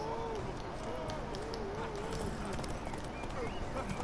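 Rapid hoofbeats of a galloping horse in The Witcher 3: Wild Hunt, steady and continuous, mixed with background music and voices talking over it.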